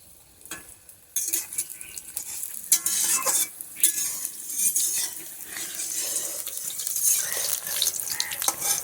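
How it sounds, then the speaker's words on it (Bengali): Pumpkin flower fritters frying in a pan, quiet at first, then a sudden loud bubbling sizzle that keeps crackling and fluctuating, no speech. "তো আমার এক সাইড ভাজা হোক, তারপরে উল্টিয়ে দেবো।"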